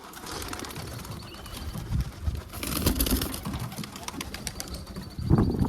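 Domestic pigeons cooing in a home loft, with soft, low murmuring calls rising and falling amid steady background noise and occasional rustling.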